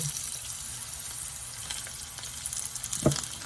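Breaded green beans frying in oil, giving a steady close hiss and crackle, with a brief clink or splash near the end.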